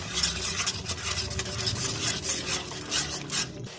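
Ground spices (cumin, coriander, salt and Kashmiri chilli) are mixed together by hand for a prawn malai curry, producing a steady, close scraping and rubbing that runs without pause, fairly loud and with no talking.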